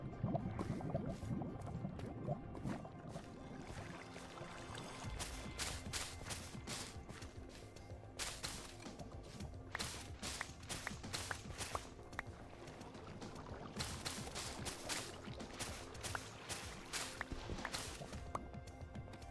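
Steady rushing of a waterfall in Minecraft, a continuous broadband wash of flowing water with repeated sharp clicking bursts layered on top, fairly quiet throughout.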